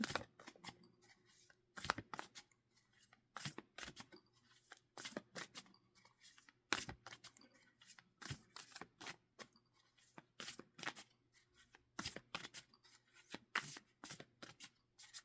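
Quiet, rapid riffling of playing cards being shuffled, in repeated short bursts with brief pauses between.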